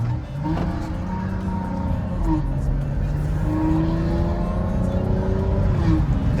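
Dual exhaust on a 2016 Dodge Charger 3.6L V6 with the muffler deleted, revving up and down in several rising pulls over a steady rumble, loud and close, with people talking faintly.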